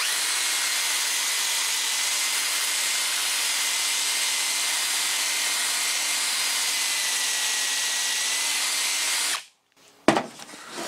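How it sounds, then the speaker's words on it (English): Wire brush scrubbing old adhesive and weather stripping off a 1966 Ford Mustang door panel: a loud, steady abrasive hiss for about nine seconds, then it stops with a brief clatter. "So I just got me a wire brush and I'm just going at it like this."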